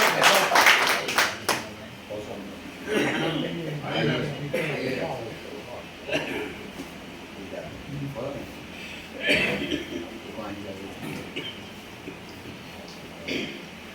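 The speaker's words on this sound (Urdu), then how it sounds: "زوردار تالیوں سے خیر مقدم کریں ڈاکٹر یونس غازی صاحب کا" Brief clapping from the audience at a mushaira in Meerut, heard near the start, followed by someone speaking in a reverberant hall with occasional light taps and murmurs.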